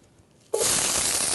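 Thinly sliced fresh onion hits hot oil in a pan with a sudden loud hiss that holds as a steady, close sizzle.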